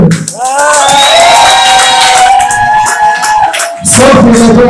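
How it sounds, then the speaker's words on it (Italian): A crowd breaks into loud, close cheering and applause at a music event, a dense wash of claps and shouts filling the whole moment, briefly dipping before surging again. "Gli applausi per Sofir!"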